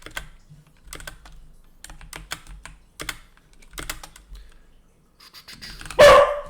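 A dog gives one loud, sharp bark close by near the end, after a stretch of rapid computer keyboard typing in a quiet room.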